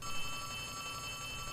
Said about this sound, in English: Okay, there's a telephone ringing.